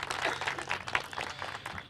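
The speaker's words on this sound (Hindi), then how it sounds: "एक बार जोरदार तालियां हो जाए" A studio audience at a televised political debate in Moradabad claps loudly in quick, uneven bursts, the applause staying close and energetic for a couple of seconds without voices on top.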